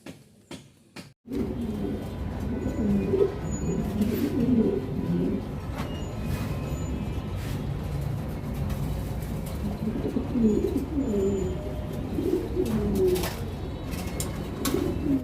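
A breeding pair of pigeons coo in soft, repeated low phrases, close by and fairly quiet, over a faint steady background hum.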